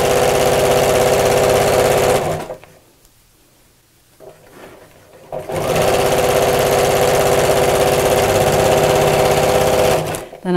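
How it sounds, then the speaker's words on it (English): A sewing machine stitches a denim laptop bag panel in loud, fast bursts, stopping for a few seconds in the middle before running again steadily to the end. "Foot back down and carry on sewing."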